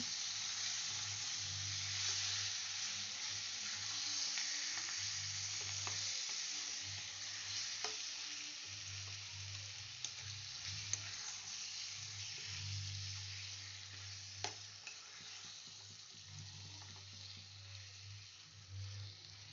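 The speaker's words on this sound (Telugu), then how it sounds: "ఇప్పుడు ఆ చికెన్ని కలుపుకుంటూ వేయించుకోండి." Chicken frying in a pan while being stirred, a steady close sizzle with scraping stir strokes and occasional small clicks, continuing unbroken throughout with no voices.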